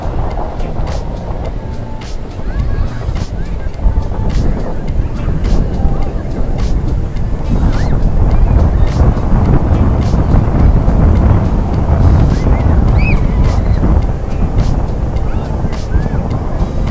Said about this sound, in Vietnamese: Sóng hôm nay rất là lớn rồi cả nhà.